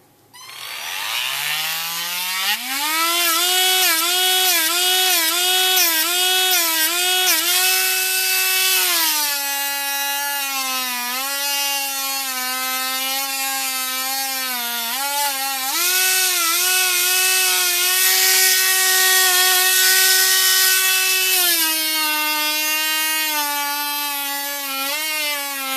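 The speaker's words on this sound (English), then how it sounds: "Has a like a drum sanding disc on it, or sanding drum on it." A power tool fitted with a sanding drum whines loudly and continuously as it shapes a homemade holster clip, its pitch rising on spin-up and dipping several times under load.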